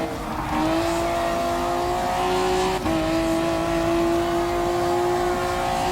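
A Honda NSX GT500 race car, number 32 from the 2008 Super GT season, in Gran Turismo Sport: its engine holds a loud, high-pitched whine, with a sharp shift blip partway through, then a steady climb in pitch.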